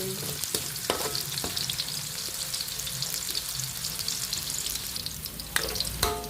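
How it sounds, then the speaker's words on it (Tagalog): Chicken pieces for chicken menudo fry in a pan with a steady, loud sizzle throughout, punctuated by a few sharp clinks and scrapes of stirring. "Ang manok madaling maluto kaya iprituhin ko muna ito para hindi ma-over ang chicken"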